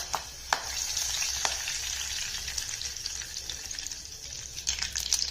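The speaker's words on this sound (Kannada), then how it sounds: "ಎಣ್ಣೆ ಬಿಸಿಯಾಗಿದೆ, ಸಾಸಿವೆ ಹಾಕ್ತೀನಿ. ಸಾಸಿವೆ ಹಾಕಿದ್ಮೇಲೆ ಕರಿಬೇವು ಹಾಕ್ತೀನಿ." Mustard seeds and curry leaves hit about two spoons of hot oil and crackle, with sharp pops over a steady fizzing sizzle. The bursts of popping are loudest near the start and again at the end.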